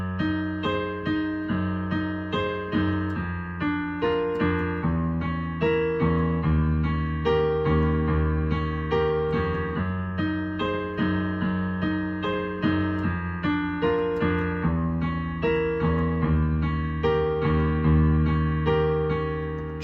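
Piano playing the chord introduction of a song, a steady sequence of struck chords with regular attacks and sustained decays, clear and close with no talking over it.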